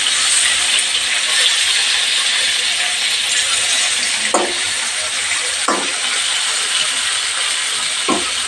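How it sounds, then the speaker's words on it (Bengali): Fresh shol fish fries in a pan of oil over medium heat, giving a steady, close, bright sizzle with a few brief louder crackles as pieces shift. "মিডিয়াম হিটে ভেজে নেব। যেহেতু তাজা মাছ তাই"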